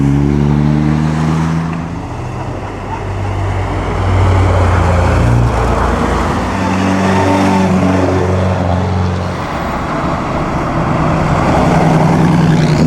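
Vintage racing cars at the 2013 Mille Miglia in the town of Pianoro, including an 8-cylinder Alfa Romeo, a Maserati and a BMW, roar past one after another. Loud, close engine drones rise and fall, with revving and shifting pitch as each car goes by.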